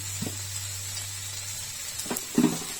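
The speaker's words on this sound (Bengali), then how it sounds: "দিয়ে ভালো করে ভেজে দিতে হবে আদা রসুনটাকে, একটু লাল লাল করে ভেজে নিতে হবে।" Ginger and garlic frying in hot oil in a pan, giving a steady faint sizzle with a low hum beneath and a couple of brief louder stirring scrapes near the end.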